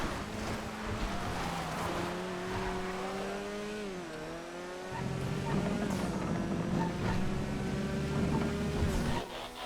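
Hot Knife road car engine in GTA FiveM, a continuous droning hum that shifts pitch as gears change, dipping then climbing again with a louder, rougher surge in the second half.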